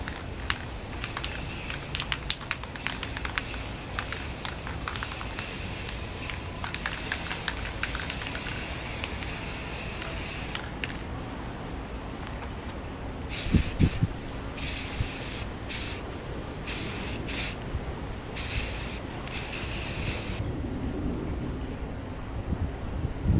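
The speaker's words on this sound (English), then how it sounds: "get as nice and smooth a finish on this as we can, even the clear" A spray gun lays paint and clear coat onto a motorcycle part in a long steady hiss, then sprays in repeated short bursts separated by pauses.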